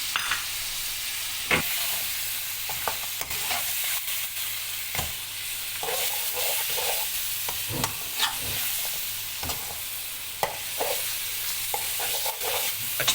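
Garlic and crushed ginger stir-fry in a pan for mutton shinwari, a continuous sizzle broken by repeated scraping strokes and clinks of a utensil against the pan, with no voices.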